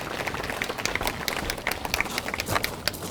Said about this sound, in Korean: 시인님께 큰 박수 부탁드리겠습니다